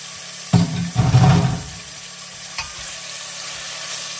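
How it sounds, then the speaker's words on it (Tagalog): Mixed ground meat, half of it pork, drops into a hot pan for Bolognese sauce. It gives a loud sizzling burst that settles into a softer, steady frying hiss, with a light clack near the end. "At ilalagay po natin yung ating mixed ground meat ito."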